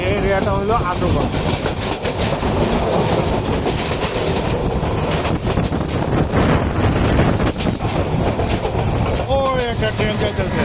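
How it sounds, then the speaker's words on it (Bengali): A train rumbles past near Ashuganj, Bangladesh, with steady, loud, clattering wheel noise on the rails and wind buffeting throughout, while voices are heard over it. "ট্রেন যাইতেছে, ওই যে ট্রেন যাইতেছে।"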